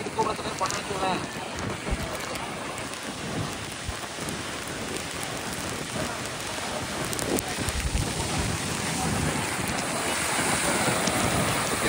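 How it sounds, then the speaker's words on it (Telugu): Heavy rain driven by strong wind on a Goa beach makes a dense, hissing downpour that swells steadily louder toward the end, thick and continuous. "వాన స్టార్ట్ అయింది."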